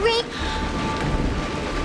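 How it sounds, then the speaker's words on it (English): Rain falls in an animated film, a steady, close hiss of downpour that continues after a brief high tonal voice-like sound at the start. "It's raining! It's true!"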